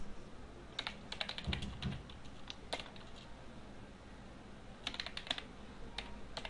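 A file name is typed on a computer keyboard in a series of quick, fairly quiet key clicks in two bursts, with a pause between them.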